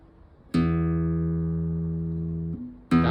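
A single strummed chord rings out on an acoustic guitar fitted with worn strings, sustaining with a gradual decay for about two seconds before the next strum begins, clear and close with no talk.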